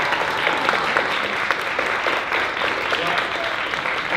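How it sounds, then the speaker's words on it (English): Steady, dense audience applause for a speaker after a talk, many hands clapping continuously at moderate loudness with no talking over it. "Can we just hear another round of applause for Jen?"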